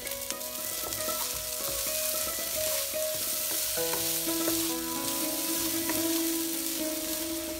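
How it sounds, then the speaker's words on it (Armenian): Spelt grains with salt and black pepper frying in a pan for spelt pilaf, a constant crackling sizzle with scraping stirs of a utensil and occasional clinks against the pan. "այս ամենը խառնելով կտապակենք 1-2 րոպե"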